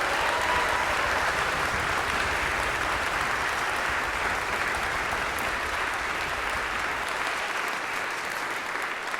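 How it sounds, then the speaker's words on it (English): A concert audience applauds the volunteer musicians: a dense, steady wash of clapping holds at even loudness for about nine seconds with no voices over it. "let's have a warm applause for all the musicians"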